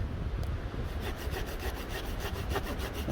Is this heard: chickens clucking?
no